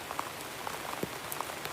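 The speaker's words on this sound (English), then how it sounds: "Loving the sound of the rain." Steady rain falls on a surface, a dense even hiss with scattered distinct droplet taps, close and continuous.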